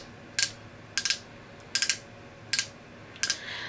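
A Stila lip glaze click pen is clicked repeatedly to push out product, five small crisp plastic clicks, some doubled, spaced roughly every half second to three quarters of a second, close and distinct against a quiet room.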